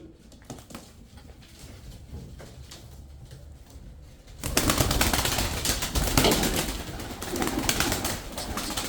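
A flock of 35 tumbler pigeons gives soft cooing and bird calls, turning into a louder, dense burst of flapping wings and flock noise partway through, fairly close with no talking.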